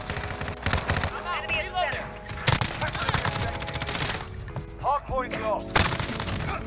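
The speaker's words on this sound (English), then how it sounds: "This M13 has no recoil, man, at all." M13 rifle fire in Call of Duty Modern Warfare, with dense bursts of rapid automatic gunshots and scattered impacts amid busy game sounds, while a voice talks over parts of it.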